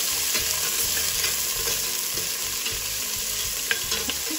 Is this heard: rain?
no